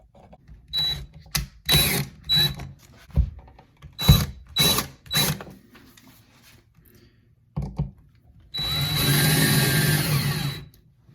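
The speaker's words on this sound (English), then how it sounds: "now all that's left is to screw this screw, push this back into that hole like so" A screw being driven into a GFCI outlet during installation, heard as a series of short ratcheting clicks and turns in quick bursts, followed by a longer, steady whirring burst near the end.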